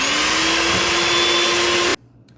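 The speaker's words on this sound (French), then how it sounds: "Maintenant je vais battre les blancs." Electric hand mixer whipping egg whites in a bowl, a steady loud motor whine held for about two seconds before cutting off abruptly into near silence.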